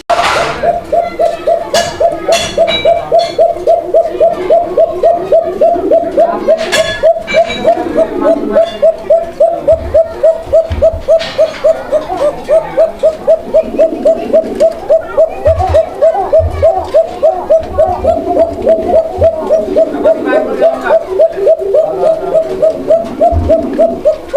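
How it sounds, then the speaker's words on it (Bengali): A pigeon kept for sale coos steadily in a long, rhythmic run of soft, repeated calls, close by and continuous for the whole stretch, with some scattered background noise. "ভরপুর ডাকের কবুতর দর্শক বন্ধুরা আপনারা কবুতরটা ডাক দেখছেন"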